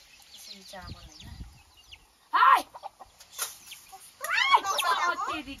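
Village chickens clucking close by, with several loud, strained bursts of calls, the strongest near the middle and end, over quieter background clucks.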